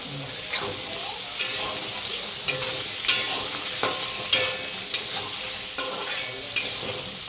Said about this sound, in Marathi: मी एकच बटाटा घेतलेला आहे आणि ते तेलामध्येच परतून घ्यायचं आहे